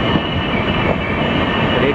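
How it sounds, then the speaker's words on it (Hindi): Howrah Pune Duronto Express shunting, a loud steady rumble of rolling rail wagons with faint wheel squeal and rattling, close by. "एक शंट हो रहा है उसका।"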